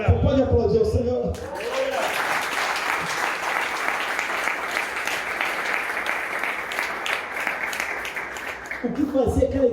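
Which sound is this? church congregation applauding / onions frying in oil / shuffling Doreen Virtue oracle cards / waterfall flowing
church congregation applauding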